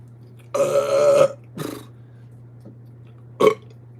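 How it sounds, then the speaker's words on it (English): A long, loud belch rumbles out, followed shortly by a shorter second burp, then a brief quiet gap and a final short burp, over a steady low hum. "I think I feel a burp coming on"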